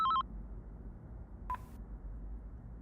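Telephone dialing tones: a quick burst of several DTMF beeps, a pause, then one more short tone, crisp and fairly loud against a quiet background with no talk.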